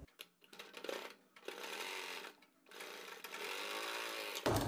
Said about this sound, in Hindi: हाफ इंच की सिलाई लेते हुए इसको अटैच करेंगे